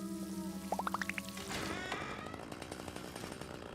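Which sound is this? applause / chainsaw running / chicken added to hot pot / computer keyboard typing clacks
chainsaw running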